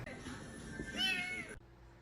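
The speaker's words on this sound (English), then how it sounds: "That's a beautiful brown cat." A brown cat gives a single clear meow lasting about a second, close and fairly loud, with a rising and then falling pitch, before the sound cuts away to near silence.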